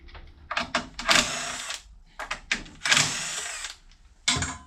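A power screwdriver with a torque setting tightens the variator bolts on a Honda PCX scooter, giving several short, loud whirring bursts of varying length separated by brief pauses, close up.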